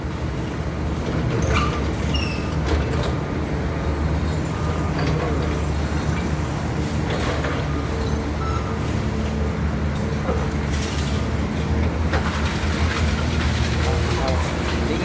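XCMG XE215C excavator with an Isuzu 6BG engine demolishing a five-storey building, giving a steady loud engine rumble with clanking and crashing debris throughout, under occasional voices.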